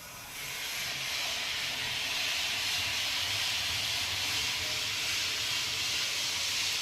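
Loud, steady hiss of steam escaping from a cashew-processing boiler at about 100 degrees, starting quickly and holding constant, with a low rumble underneath.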